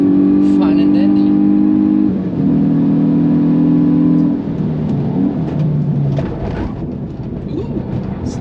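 A tuned Hyundai i20 N hatchback on the Nürburgring pulls hard with a loud, droning engine note rising in pitch through the gears, interior-close, with talk over it.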